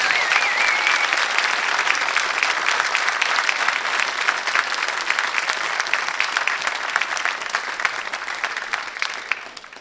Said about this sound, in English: would you please join me in thanking them for the round of applause?